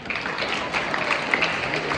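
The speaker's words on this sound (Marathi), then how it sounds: "टाळ्या बघा" A room full of schoolchildren claps at a science magic demonstration, giving steady, dense applause that carries on evenly from start to finish with no talking over it.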